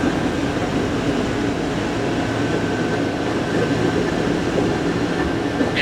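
A Bangalore metro train near Bommanahalli station rolls with a steady, loud rumble and a faint high whine, continuous and unbroken, with no voices.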